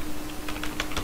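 Typing on a computer keyboard into Google Translate: a quick run of crisp keystrokes over about a second, close and fairly quiet against a steady low hum, with no talking.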